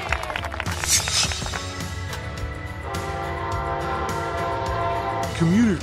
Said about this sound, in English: Commuter train.